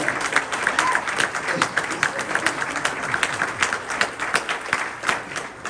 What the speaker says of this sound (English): Round of applause for Maria.